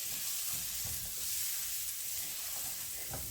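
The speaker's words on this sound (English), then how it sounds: "we're going to fry this up a little" A cup of rice fries in a pan ahead of the spices, giving a soft, even sizzle with faint scraping stirs now and then, close but quiet, with no voices.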